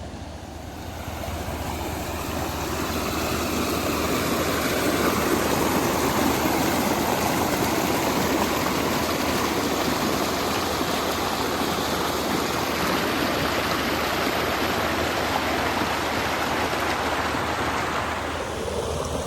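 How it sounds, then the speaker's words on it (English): Flash floodwater from hurricane remnants rushes steadily down a diversion ditch beside a gravel road, a loud continuous roar of running water that holds without pause. "You all are probably bored of watching water running"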